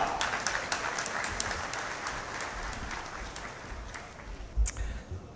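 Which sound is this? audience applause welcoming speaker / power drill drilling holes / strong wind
audience applause welcoming speaker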